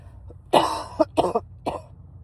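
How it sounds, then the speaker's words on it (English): A burst of several harsh coughs in quick succession, close and fairly loud, with brief pauses between them. "I apologize for the cough and my yawns."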